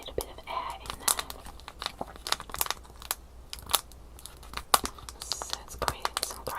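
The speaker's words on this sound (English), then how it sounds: "Some great crinkle sounds with this one. There's a little bit of air in there." Bath & Body Works product packaging with a little air trapped inside crinkles close up in quick, uneven bursts of soft crackling, with faint whispering between the rustles.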